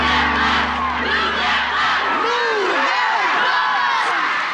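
A large outdoor crowd cheers and roars continuously at a home makeover reveal event, loud and dense, with overlapping shouts and whoops throughout.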